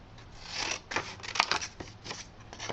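Scissors cut through paper to make a stencil, with several close, crisp snipping and slicing strokes in quick uneven succession and no speech.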